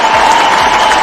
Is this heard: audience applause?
yes